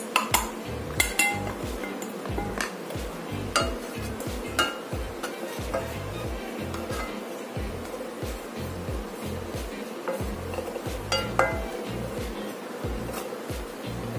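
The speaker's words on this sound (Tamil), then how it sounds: "இப்போ ஒரு பானை ஹீட் பண்ணிட்டு நம்ம கிரைண்ட் பண்ணிட்டு வந்த பிரெட் வந்து இதல போட்டு நல்லா ஃப்ரை பண்ணிக்கலாம்" Ground bread crumbs fry in a hot pan while being stirred for a golden, crisp finish, with a steady rhythm of metal utensil scrapes and clinks against the pan over a soft, close sizzle, no talk.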